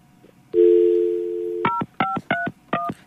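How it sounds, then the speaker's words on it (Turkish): A telephone dials out: a long steady tone followed by four short bursts of touch-tone dialing beeps, loud and close, with no voices. "seni arıyoruz, telefonu açmıyorsun"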